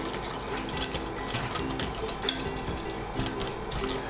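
A spoon or whisk stirs egg yolks into a warm cream cheese batter in a pot, giving a continuous scraping, clicking rhythm against the metal with occasional sharper taps.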